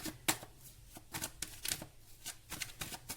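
Tarot cards being shuffled and flicked close by in a fast, irregular run of crisp papery riffles and light slaps. No voices are heard.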